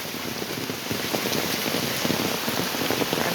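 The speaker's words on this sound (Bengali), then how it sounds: "এই দেখো কিরম জোর বৃষ্টি হচ্ছে আমাদের এখানে, বিশাল জোর বৃষ্টি" Heavy rain pours down at night, a dense steady roar of drops hitting surfaces nearby with no pauses, continuous and fairly loud throughout.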